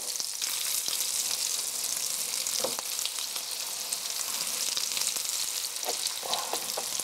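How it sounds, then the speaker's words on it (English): Pieces of wild game meat fry in hot grease with a steady close sizzle and scattered sharp crackles and pops throughout. "The key here is to get the grease hot enough where the meat is not sucking up a lot of the grease"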